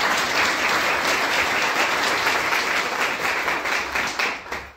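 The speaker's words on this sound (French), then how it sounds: "Si vous voulez bien l'applaudir." An audience at a Women's Day celebration at the Casablanca stock exchange breaks into dense, continuous applause, steady and full before thinning slightly at the very end.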